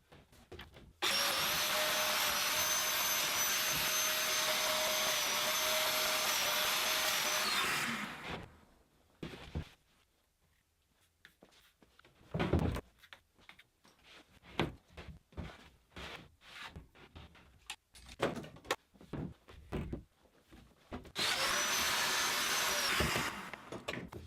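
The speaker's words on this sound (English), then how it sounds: "I still needed to cut the domino mortises in the carcass" Domino joiner cutting mortises in a cabinet carcass, two loud sustained whining bursts, the first about seven seconds long and the second shorter, with knocks and handling clatter between them.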